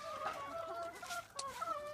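Chickens clucking near a dog eating tomatoes, a few short, close clucks and squawks in quick succession, alone without talk.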